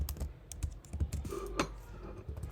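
Java code being typed on a computer keyboard during a programming lesson, a steady run of quick, close clicking keystrokes with a low room hum underneath and no speech.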